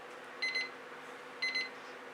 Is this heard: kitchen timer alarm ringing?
yes